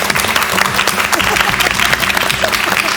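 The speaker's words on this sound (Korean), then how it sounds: "오늘 정말 유익한 강의해 주신 서희원 교수님께 큰 박수 부탁드리겠습니다" A studio audience applauds a lecturer after a televised talk on dementia prevention, a dense, steady clapping from many hands that stays loud and even from start to finish with no voices over it.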